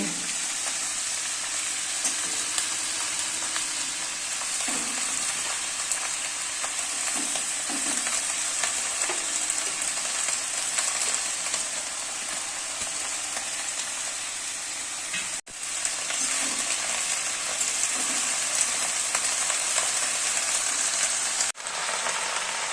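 Malabar spinach sizzling steadily in a hot pan, a dense continuous frying hiss with faint stirring clicks, close and fairly loud with no voices.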